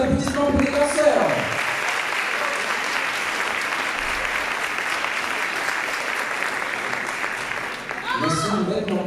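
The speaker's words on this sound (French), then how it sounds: "Encore un maximum d'applaudissements pour les danseurs." Sustained audience applause for dancers at a Miss Lens beauty pageant, a thick continuous roar of clapping with a few voices mixed in, dipping slightly near the end.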